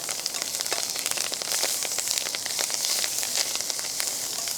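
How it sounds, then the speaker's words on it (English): Torn la lop and lakat greens cooking on low heat on a wood stove at a winter camp, giving a steady, close sizzle with dense crackling and popping throughout, no talk. "I'm just gonna tear them up and then cook them on low heat"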